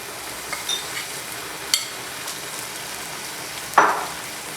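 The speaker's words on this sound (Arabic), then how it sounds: "احنا غنرميو الحمص" Boiled chickpeas dropped into a pot of frying onions with salt and a little butter, a few soft clatters and then a sharp burst of sizzling near the end over a low, quiet frying hiss.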